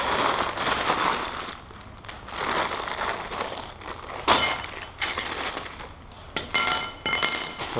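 Metal bolts for a Pittsburgh Automotive 1-ton gantry crane kit clink and rattle as they are handled, with irregular bright metallic jingles and a few sharper clacks near the end, close and moderately loud.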